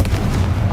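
A Confringo blasting spell explodes in Hogwarts Legacy, a short loud booming burst with a heavy low rumble, close and alone.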